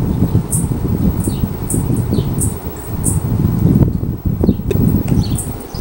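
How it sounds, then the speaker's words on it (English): Large electric fan blowing steadily and spinning a small DIY DC ceiling fan, a constant near whooshing airflow with faint rhythmic ticking throughout. "This is just the big fan moving the little fan."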